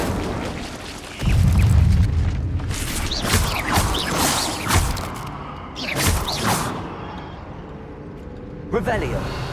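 A fire spell cast in the Hogwarts Legacy video game makes a heavy whooshing boom that swells and rumbles for several seconds. Sharp magical bursts and clatter follow over a continuous game soundscape.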